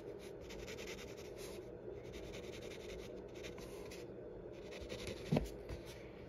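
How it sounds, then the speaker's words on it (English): A graphite pencil shades across paper while an eye is drawn, a soft continuous scratchy rub in short strokes with brief pauses, close and quiet, ending with a small tap. "you're just going to go a little darker with the pencil, like that, and then kind of shade around it."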